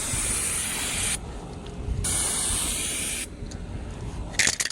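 Aerosol spray of a second finish coat hissing in close bursts, two long sprays separated by short pauses, then a few quick puffs at the end.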